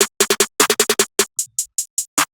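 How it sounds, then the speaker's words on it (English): Rapid snare roll for a hip hop beat transition, a burst of quick evenly spaced crisp hits that starts dense and loud, then spreads into sparser, softer strikes before a final accented hit. "I added this right here, the snare roll,"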